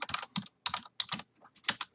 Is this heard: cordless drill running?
no